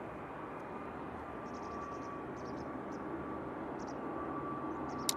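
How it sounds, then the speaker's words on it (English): An Etihad airliner taxis at Manchester Airport, a faint, steady distant engine hum with a soft whine under a broad hiss and a few small clicks nearby. "Etihad has started the taxi out."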